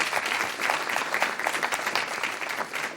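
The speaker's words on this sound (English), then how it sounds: "can we give them a round of applause too?" A room full of people gives a round of applause at a First Friday gathering. The clapping is dense and steady for the whole stretch, fairly close, with no speech over it.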